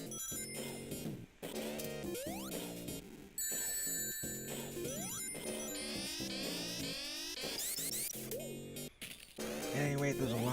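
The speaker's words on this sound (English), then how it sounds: "those alarm bells summon those flying badniks that try to swoop down upon you" Alarm bells ring in the Sonic the Hedgehog 3 video game, buried in a loud, dense mix of bright chiptune music and rapid electronic sound effects that runs the whole time.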